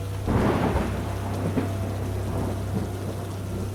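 A rumble of thunder rolls over steady rain, the downpour continuing evenly as the low boom fades.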